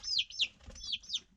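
Hens and chicks on a farm cluck and peep in short repeated bursts, fairly close and soft, with no talking.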